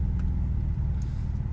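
An Alfa Romeo 147 GTA with a Busso V6 engine drones steadily while driving, a continuous low engine and road rumble heard from inside the car, with no talking.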